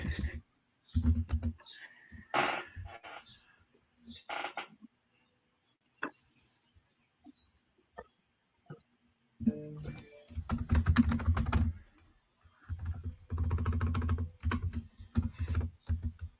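Clattering keystrokes on a computer keyboard come in bursts of fast typing separated by quiet gaps, close to the microphone, with occasional faint voice sounds in between.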